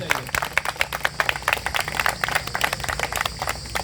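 Audience at a sit-in protest at Ecogarden, Lucknow, claps in a dense, fairly steady run of sharp hand claps, moderately close, with voices faintly mixed in.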